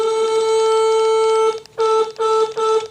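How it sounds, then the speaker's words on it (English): A 1966 Ford Thunderbird horn with only one of its horns working, held down in a steady loud nasal blare for about a second and a half, then two more short honks, close by. "Yeah, one horn's working."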